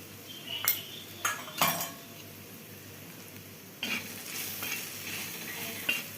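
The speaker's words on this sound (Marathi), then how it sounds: "त्याला पुन्हा एकदा असं छान परतून घ्यायचं आहे." Turmeric, garlic and green chili stir-fried in hot oil, with a spoon scraping and clinking against the pan in a few quick bursts over a steady close sizzle.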